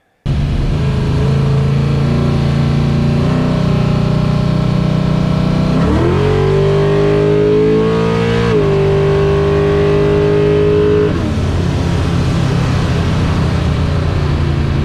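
An E85 drag car with a nitrous setup, throttle held wide open: a loud, close engine roar that holds steady, climbs in pitch midway, then settles again, continuous with no speech.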